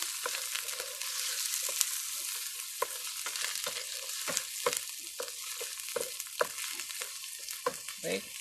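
Chopped onion sizzles and fries in a pan for adobong sitaw, a steady crackling hiss broken by sharp scraping stirs, close and alone without talk.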